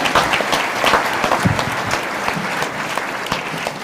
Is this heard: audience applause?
yes